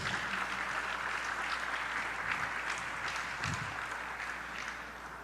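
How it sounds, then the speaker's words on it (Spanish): Church congregation giving a strong round of applause during a Spanish-language sermon, a sustained, dense crowd clapping that holds steady for several seconds before easing slightly at the end. "Dale un fuerte aplauso al Rey de Reyes."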